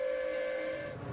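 A passing train sounds a long, steady horn or whistle tone, loud and sustained for about a second and easing off slightly at the end, with no voices.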